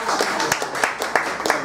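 An audience at a food colloquium gives brief, loose applause, a handful of sharp claps spaced across a moment, partly under voices.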